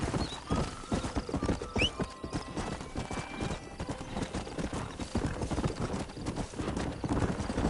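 Steady clip-clop of horse hooves with a whinny partway through in the video game Red Dead Redemption, played on PS5; the hoofbeats are continuous and moderately loud over a low outdoor ambience.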